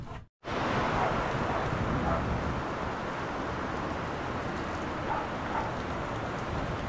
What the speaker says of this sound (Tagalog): Naulan, ang lakas.